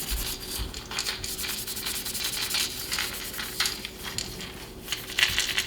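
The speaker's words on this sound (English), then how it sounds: "Next we're going to get our little Scotch pad, and we're just going to scuff this bait up." Small Scotch pad scuffing the painted surface of a crankbait fishing lure before airbrushing, a steady close-up rasp of quick back-and-forth rubbing strokes with no talk.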